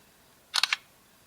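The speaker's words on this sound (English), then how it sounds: "you can say something like cheese, smile, whiskey, kimchi, or LG to release the shutter" LG G2 smartphone camera shutter, fired by a spoken voice command, gives a quick, close burst of three crisp clicks in otherwise quiet surroundings.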